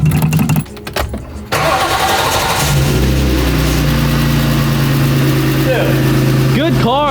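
A drift car cranks over and catches, then settles into a steady, loud rumbling idle that runs on without a break, with a brief high whine near the end.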